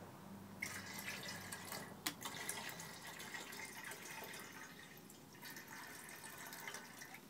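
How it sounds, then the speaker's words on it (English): Water is poured into a container while mixing lye water for soap making, a steady trickling and splashing flow that runs close and fairly quiet for several seconds with no talk over it. "I'm going to have to add a little bit more water to it."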